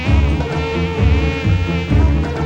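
Insistent insect buzzing like flies in a comedy scene set in a sweet shop, a loud continuous droning hum that wavers slightly in pitch and holds steady throughout.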